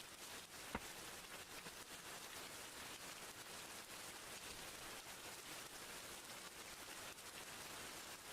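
Steady rain hiss on a coding livestream, a constant broadband wash of droplets at an even, moderate level with one brief click near the start and no voices.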